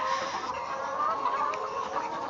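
Chickens cluck continuously in a poultry farm with old, worn cages; the birds are in good health. The sound is a dense, steady, close-up chorus of overlapping clucks with no pauses.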